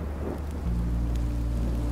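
Rain falls steadily in the Minecraft Story Mode video game, a dense, fairly loud wash with a low droning rumble underneath for a brief moment.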